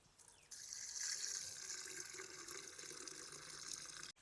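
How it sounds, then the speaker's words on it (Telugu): Tamarind juice pours steadily into a bowl of Ugadi pachadi, a continuous close, moderately loud liquid splash and trickle that starts after a brief pause and runs unbroken to the end. "ఇప్పుడు పులుపు కోసం చింతపండు పులుసు వేసుకుందాం"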